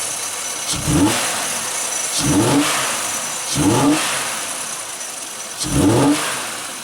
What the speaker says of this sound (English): That probably is a water pump.